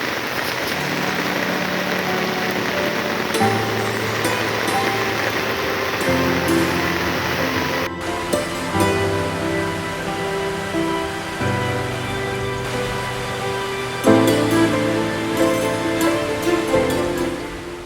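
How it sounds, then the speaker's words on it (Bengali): Heavy morning rain pours steadily and densely on surfaces in a town, a continuous loud hiss with scattered drips, while faint music-like tones run underneath. "ভীষণ পরিমাণে বৃষ্টি চলছে সকাল সকাল ভারী বর্ষণ চলছে"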